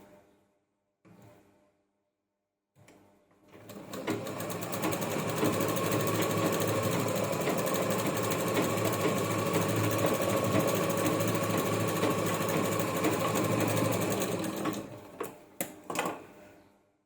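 A sewing machine stitches a bag made from a saree blouse piece, running in a steady fast whir for about ten seconds after a few brief handling clicks, then slowing and stopping with small knocks.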